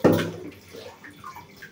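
Water splashes and pours in a bathtub as a three-year-old child bathes, with a sharp splash at the start followed by softer trickling and sloshing.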